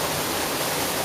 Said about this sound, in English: I've just reached this waterfall